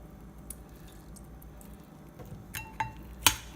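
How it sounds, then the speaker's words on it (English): Tartar sauce with pepper and lime being mixed in a bowl, soft wet squishing with a few sharp clinks of a utensil against the bowl growing louder toward the end. "I just mixed it up really good"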